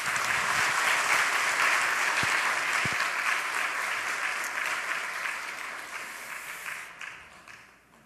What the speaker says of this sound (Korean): 다시 한번 큰 박수 해주시기 바랍니다